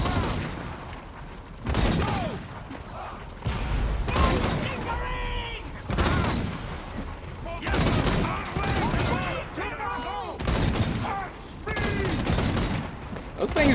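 Repeated volleys of unit gunfire in Total War: Warhammer, a multiplayer 2v2 battle, crackling in several bursts across the scene while someone talks over them with excited remarks.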